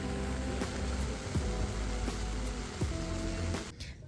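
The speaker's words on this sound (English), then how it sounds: "Just listening to the rain." Steady rain falls at an outdoor craft market, a dense continuous patter on surfaces with occasional sharper drips, fairly loud and unbroken with no voices.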